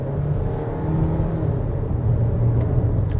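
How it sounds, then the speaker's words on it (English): A VW Tiguan fitted with an aftermarket inlet pipe and intake hose accelerates, its intake induction noise a steady, close engine rumble with a droning tone that builds slightly over a few seconds. "I could easily hear some induction noise coming from the system"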